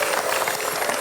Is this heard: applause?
yes